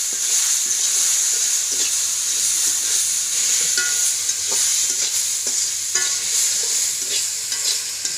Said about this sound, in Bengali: রসুন দিয়ে লাল শাক ভাজি করে